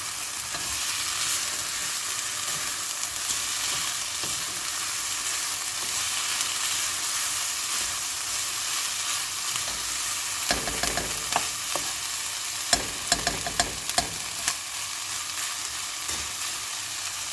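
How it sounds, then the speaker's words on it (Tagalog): Onion sautéing in a pan for ginataang kalabasa, a steady close hiss of frying with intermittent scraping stirs and soft clatters of the spoon against the pan, no voices. "Ayan, medyo luto na yung onion. So, haluin natin."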